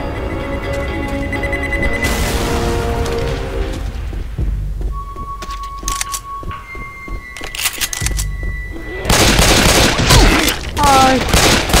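In the zombie shooter Left 4 Dead, heavy gunfire rattles in dense bursts, with a booming grenade blast and further volleys at close range.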